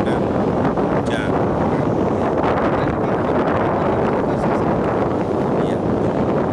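Heavy, continuous wind buffets the microphone in a dense roar on Sanur Beach, Bali, during stormy weather, with faint surf-like wash underneath and no pauses.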